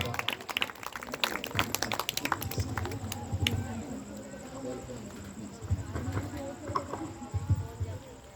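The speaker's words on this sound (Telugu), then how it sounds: "చప్పట్లు కొడుతూ దేవుని నామాన్ని ఘనపరుద్దాం." Clapping from a church congregation gathered to welcome a preacher, a loose, uneven patter of hands that runs throughout under a voice speaking over it.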